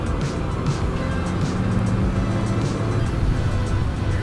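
A bus rolls along a busy main road, its low engine rumble steady and close, with constant traffic noise around it and no clear talk.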